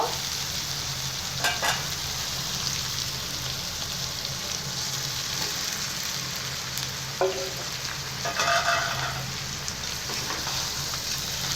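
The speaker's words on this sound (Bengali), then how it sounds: "এইভাবে কষতে থাকবো কিছুক্ষণের জন্যে" Young jackfruit curry sautéing in a pan, a steady close sizzle broken by scraping stirs now and then, with no talking.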